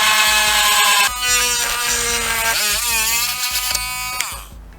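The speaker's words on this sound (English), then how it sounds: "this is like an easy bake oven version of a Dremel" Small rotary tool, a light hobby-grade Dremel-style unit, cutting into a plastic piece on a Mustang GT, giving a loud, steady high-pitched whine that shifts pitch as it bites and eases, then cuts off near the end.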